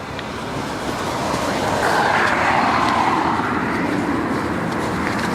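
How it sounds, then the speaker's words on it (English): Cars moving through a busy car park, a steady broad rumble of engines and tyres that swells slightly midway as a vehicle passes nearby, continuous and moderately loud. "Car park got busy all of a sudden."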